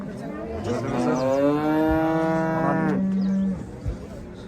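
A cow at a livestock market gives one long, loud, close moo that rises and then holds low before stopping, with faint crowd noise behind it.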